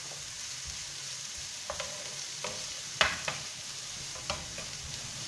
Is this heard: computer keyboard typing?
no